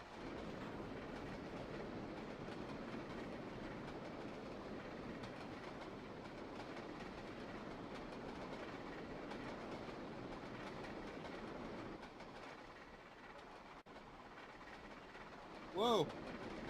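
A ride-on railroad train runs on a constant-loop track, giving a low, steady rolling rumble with faint rhythmic wheel noise, fairly quiet throughout, with a brief higher squeal near the end.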